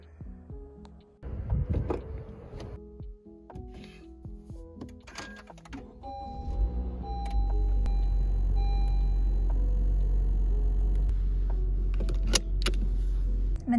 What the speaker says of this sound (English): I'm in the car waiting for Sarah